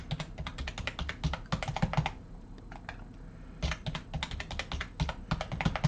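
Rapid bursts of keystrokes on a computer keyboard as a passphrase is entered, close and clear, with a short pause in the middle before the typing resumes.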